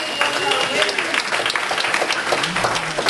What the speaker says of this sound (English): round of applause for Lauren.